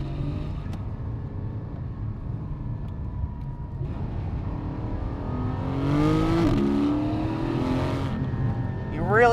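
A Porsche 718 GT4 in PDK Sport mode with the sport exhaust on, heard from inside the cabin as a steady engine drone that swells into a louder rising rev as the car accelerates out of a corner.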